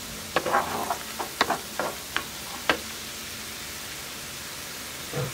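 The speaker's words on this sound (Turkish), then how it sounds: "Soğanları karamelize olana kadar kavurmaya devam edelim." Onions sautéing in a pan until caramelized, giving a steady hiss of sizzling with several sharp clacks and scrapes of a spoon stirring through them, close and fairly loud.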